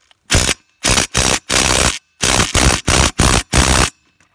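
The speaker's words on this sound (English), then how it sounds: "tighten it back with the RYOBI brushless" A Ryobi brushless cordless impact driver tightens a screw in eight loud, close hammering bursts, each roughly half a second long with short gaps between, no voices.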